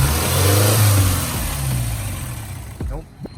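A big-turbo Subaru STI wagon engine revs up loudly nearby, a rising throaty drone that holds and then drops away as the throttle is released.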